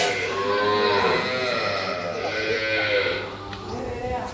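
Cows in a large cattle shed at a goshala in Konkan moo loudly in overlapping, drawn-out calls at close range, with other animals faintly bleating in the background.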